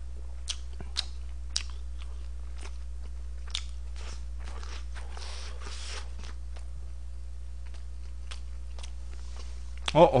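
Close, crisp crunching and biting on Chinese takeout such as tangsuyuk sweet-and-sour pork and fried dumplings, with irregular bites spread through a quiet stretch and a brief louder rustle at the end.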